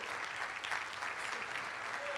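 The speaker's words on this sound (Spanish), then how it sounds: "Denle un aplauso al Rey bendito." A church congregation gives a sustained round of applause, a dense, even clapping that carries on steadily for the whole moment at moderate distance.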